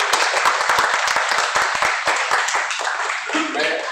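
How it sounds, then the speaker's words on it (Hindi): A group claps together at the first meeting of a foundation, brisk scattered hand claps at close range that build briefly and then thin out and fade. "सब लोग अपने लिए ताली बजाएं"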